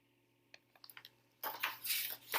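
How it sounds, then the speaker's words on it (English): Dishes crash in a kitchen: a few light clinks come first, then a loud, sustained clattering burst that lasts about a second, close by and with no talking. "Did you hear that crash out in my kitchen?"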